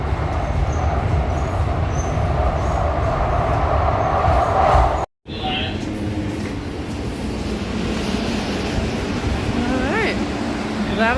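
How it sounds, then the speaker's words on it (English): Steady low rumble and rattle of a tram rolling across a bridge in St. Louis, with a brief dropout midway and faint squeals of wheels later. "I realized that I can go across the bridge on the tram"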